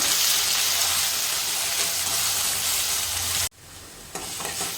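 Egg curry masala fries in oil with a loud, dense sizzle and stirring, then cuts off sharply as the heat or pan is moved, followed by a quieter, softer frying hiss; close, no voices.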